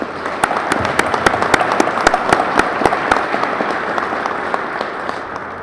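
Audience applause at an Indiana State Police recruit class graduation ceremony, a loud hall full of steady clapping with sharp individual claps standing out near the front, continuing evenly before tapering slightly at the end.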